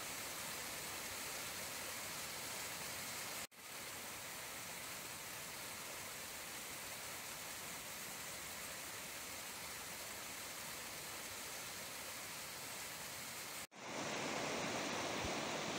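River water flows in a continuous broad rushing hiss, steady and fairly loud, with two abrupt cuts where the sound briefly drops and resumes.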